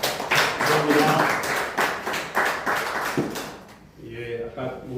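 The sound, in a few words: audience applauding at press conference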